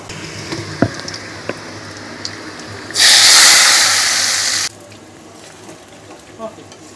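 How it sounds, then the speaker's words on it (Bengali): Spices fried in mustard oil are poured into meat in a pan, setting off a sudden loud hiss that lasts nearly two seconds and then cuts off. Faint clinks and quiet kitchen noise come before and after. "মশলা ভাজা হয়ে গেছে, এবার মাংসে ঢেলে দেব।"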